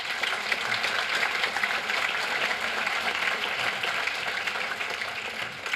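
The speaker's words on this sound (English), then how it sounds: "Let's give you a round of applause." An audience at a book event applauds warmly, a dense, even wash of clapping that holds steady for several seconds with no talk over it.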